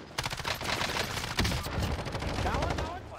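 Rapid automatic gunfire in Call of Duty Warzone, a dense, continuous burst of loud shots with a sharper crack partway through, over game ambience and faint voices.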